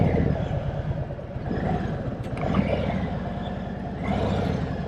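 Harley-Davidson Tri Glide Ultra three-wheel touring motorcycle eases away in first gear with no throttle, a low, steady rumbling engine throb, close and moderate, with slight swells in the rumble.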